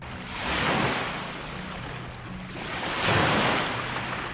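Waves on Lake Superior wash ashore in two broad swells, each rising and fading over a couple of seconds, with wind noise underneath and no voices.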